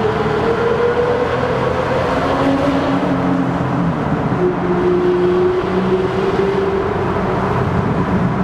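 A straight-piped 2007 BMW 760Li V12 accelerating in second gear through a tunnel with a window cracked, a loud steady droning engine note rising in pitch inside the car.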